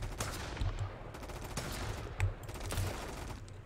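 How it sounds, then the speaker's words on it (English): Bursts of rapid gunfire from the survival game Mist Survival crackle in quick repeated volleys, fairly loud and continuous across the moment, with no talk. "Wait till they start shooting."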